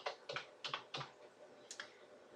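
Computer keyboard typing while entering a math homework task in a homework planner app: a few quick bursts of close keystrokes, clustered clicks with short pauses between them, no voices.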